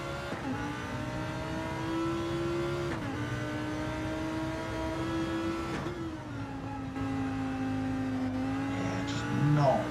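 Lamborghini and Renault GT race cars circle Brands Hatch in a racing video game, engines whining and rising through the gears with shifts every few seconds, a steady near drone.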